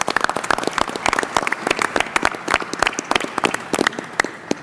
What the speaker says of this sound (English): healthcare workers that I think deserve a big round of applause for caring for.